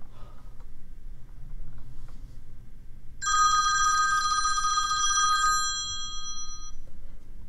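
A telephone rings once with a bright electronic trill lasting about two seconds, over a quiet low hum.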